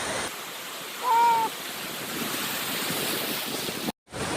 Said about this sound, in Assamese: অ' বাপ দে কিমান ঢৌ আহে